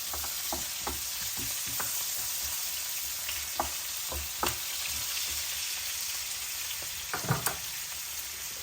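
Sliced onion sizzling steadily in hot oil for a salmon stir fry, a continuous crackling hiss broken by occasional sharper pops and light stirring clicks, with no talking.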